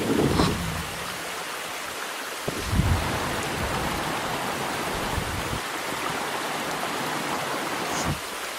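A mountain torrent rushes through a green valley, a steady broadband wash of flowing water heard moderately close, continuous and even with no voices.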